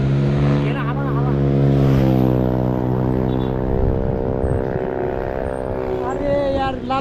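Several motor vehicles race past in a steady run of loud, droning engine tones that rise and fall in pitch as they pass close by, with a voice talking over them throughout.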